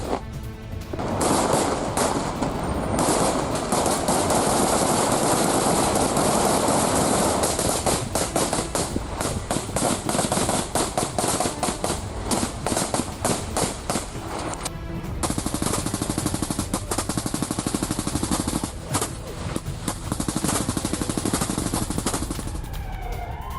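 Rapid gunfire bursts crackle almost continuously during an attack, loud and close, with dense repeated shots and only brief lulls, no voices.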